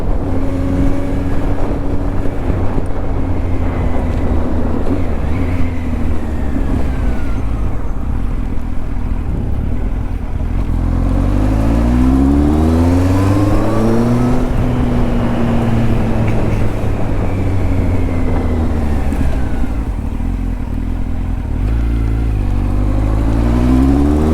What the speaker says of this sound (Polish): Żadnych niepokojących dźwięków z silnika nie słychać.